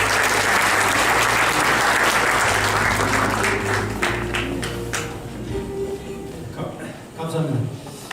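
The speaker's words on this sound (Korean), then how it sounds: "조원희 교수님을 큰 박수로 맞이하겠습니다." Dense audience applause welcoming a professor at a policy forum concert in Seongnam, loud and sustained for about four seconds before thinning into scattered claps under a voice.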